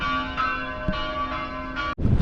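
A church bell rings from a town bell tower in Croatia, a steady sustained tone with rich ringing overtones and faint repeated strikes, then cut off abruptly near the end by a louder low rumble.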